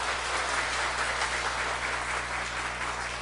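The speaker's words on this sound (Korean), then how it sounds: "박수 한번 하나님께 돌리겠습니다." A church congregation applauding during a weekday revival service, a steady dense wash of many hands clapping together, sustained and even throughout with a constant low hum beneath.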